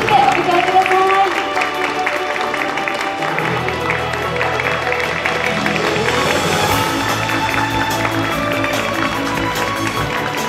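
A crowd at a Christmas campaign PR event in Ginza claps loudly to welcome a special guest, a dense, continuous wash of applause that sustains for about ten seconds without any speech over it.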